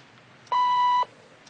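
A single steady electronic beep from a telephone answering machine, about half a second long, clear and close against faint background hiss.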